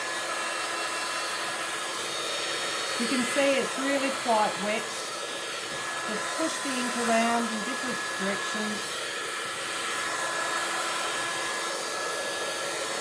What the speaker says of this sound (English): and swish it around and dry it with a heat tool